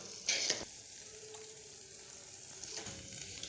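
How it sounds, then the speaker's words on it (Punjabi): Hot oil sizzling steadily as spices are tempered, with a sharp crackling burst at the start and another flare near the end. "ਫਿਰ ਆਪਾਂ ਇਸ ਨੂੰ ਤੜਕਾ ਲਗਾਵਾਂਗੇ ਚੰਗੀ ਤਰ੍ਹਾਂ"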